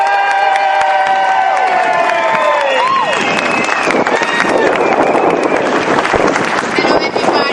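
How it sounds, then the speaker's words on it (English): A big audience cheers and applauds loudly in a hall, mixed with shouts and with a sustained tonal sound sliding downward in the first few seconds. Voices are mixed in. "Give a big round of applause."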